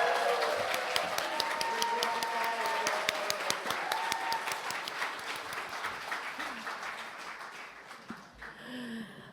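Audience at the 32nd Daesan Rural Culture Award ceremony applauding a baritone after his performance, sustained crowd clapping that gradually thins, with a faint voice and brief noise near the close.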